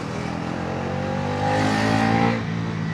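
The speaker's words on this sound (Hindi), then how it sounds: "बाइक का जो साउंड नेचर बहुत ही ज़्यादा एग्रेसिव हो जाता है उस टाइम पर" A Bajaj Pulsar NS350z motorcycle's engine revs during a ride in sport mode, a close, steady engine drone that swells louder in the middle before settling back, with no talking over it.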